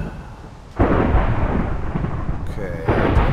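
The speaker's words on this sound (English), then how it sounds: "And this thunder is loud." Thunder in the Minecraft video game rumbles loud and deep, a long rolling crash that starts abruptly, eases briefly, then swells again near the end.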